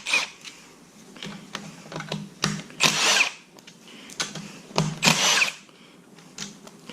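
Bolts come out of the valve body plate of a TH350 transmission, with short bursts of a small power driver or ratcheting tool whirring close by between quieter handling noises.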